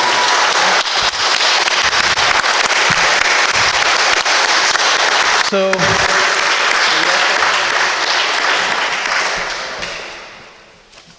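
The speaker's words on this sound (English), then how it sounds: "Round of applause for these good folks, if you would." An audience at a live community forum on homelessness breaks into a loud, sustained round of applause that fills the room for about ten seconds before fading out, with a brief spoken word near the start.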